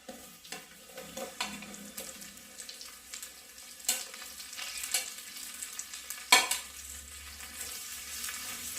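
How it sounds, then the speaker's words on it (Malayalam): Chopped onion dropped into a Kerala fish molee pan and stirred, with repeated spoon scrapes and soft clatter over a steady low sizzle, near and fairly quiet, no one talking. "ഇതിലേക്ക് നമുക്ക് സവാള അരിഞ്ഞത് ഇട്ട് കൊടുക്കുകയാണ്"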